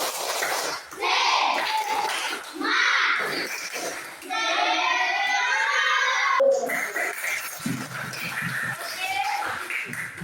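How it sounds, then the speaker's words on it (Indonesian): A class of children performs a rhythmic spirit clap, tepuk semangat, during a lesson on coding and artificial intelligence, with bursts of patterned clapping alternating with loud group chanting and shouting. "Tepuk semangat."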